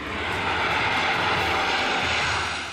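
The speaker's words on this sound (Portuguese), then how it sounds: "embarcamos no Hércules C-130, uma aeronave da Força Aérea Brasileira" Steady, loud drone of a Brazilian Air Force Hercules C-130 engine in flight, a dense continuous roar heard from inside the aircraft with no break.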